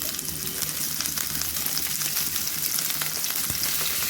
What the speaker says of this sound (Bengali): তেলটা আমার গরম হয়ে গেছে, এতে এক এক করে বকলিগুলো ছেড়ে দিলাম।